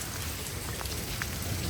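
Hail pelts roofs and parked cars, including a Corvette, during a thunderstorm in Chatsworth in the San Fernando Valley. The dense, steady rattle and patter is close and continuous, with scattered sharper impacts and no talking.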